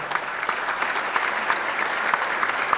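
Steady applause from an audience at a chamber of commerce small business awards event, dense clapping sustained at an even level throughout with no voices standing out.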